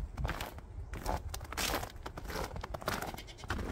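A goat bleats several times outdoors in cold winter wind, the calls fairly close amid gusty noise and some rustling, with no talking.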